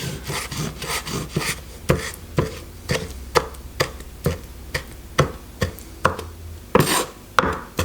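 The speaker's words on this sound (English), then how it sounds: "I'm going to slice these, chop these into" A knife chops capers into small pieces on a cutting board, steady sharp knocks repeating close and clear, with no talking.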